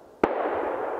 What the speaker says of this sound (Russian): Еще один выстрел.